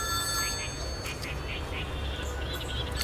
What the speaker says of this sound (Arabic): ترد يا باشا على التليفون بدل ما انت بتضحك